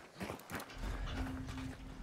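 Horse sounds in the game Hunt: Showdown, with a low animal snort or whinny-like rumble and hoof-like shuffling, accompanied by a steady tonal hum, close and moderately loud.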